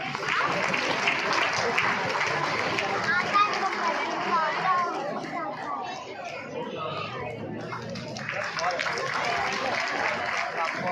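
Continuous clapping from a crowd of students and parents at a school annual day, steady and full, with a voice over the speakers and children chattering beneath it.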